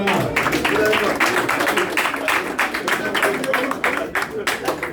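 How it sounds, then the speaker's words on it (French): Audience applause at a boxing social club event with the French boxing team, loud rhythmic clapping from a crowd with individual hand claps distinct, fading somewhat toward the end. "Merci de l'applaudir."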